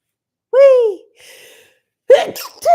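A person sneezes once with a sharp voiced burst, follows with a breathy exhale, then lets out another quick vocal gasp or sneeze, close and loud with silence in between.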